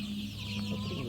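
Chickens cluck at a poultry farm among mother hens, a steady chorus of soft clucks under a constant low hum from the housing, moderately close, with no talk.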